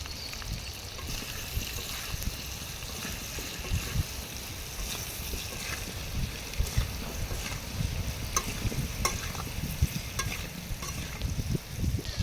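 Potatoes frying in oil with a little turmeric and salt give a steady close sizzle, with occasional scraping and clattering stirring sounds throughout.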